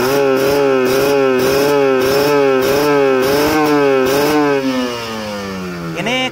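A motorcycle engine revs hard at full throttle during carburetor tuning beside a rice field, with loud, rhythmic surging and wavering pitch throughout, then the revs drop and settle toward a lower idle near the end.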